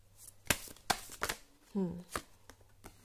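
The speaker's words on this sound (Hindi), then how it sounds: "देख रहे हो आप कितने सारे कार्ड्स एक साथ फोल्डेड हो रहे हैं बार बार" Tarot cards being shuffled and folded together repeatedly, heard as sharp riffling bursts and slaps close up, with a short stretch of a voice talking in the middle.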